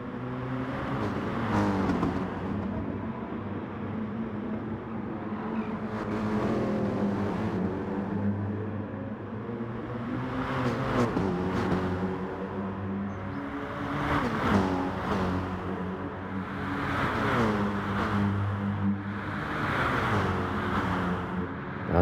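Several race cars in a sim racing game, engines roaring and revving continuously with repeated acceleration surges and gear changes, loud and close throughout with no talk.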